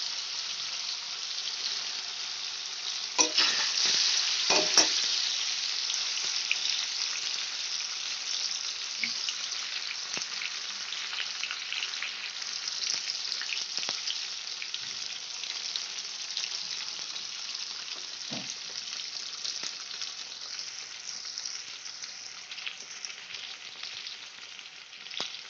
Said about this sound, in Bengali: খুব কড়া করে আমি ভাজবো না, পনির খুব কড়া করে ভাজলে শক্ত হয়ে যাওয়ার চান্স আছে